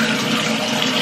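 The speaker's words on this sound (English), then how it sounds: "next things next is the shower" Shower water running steadily in a home bathroom, a continuous broadband hiss of spray at close range with no talking.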